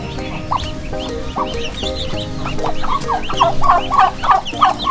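Turkey hen that brooded duck eggs, heard among other poultry on a farm: repeated nearby gobbling and clucking calls, growing louder and busier toward the end, with no talk.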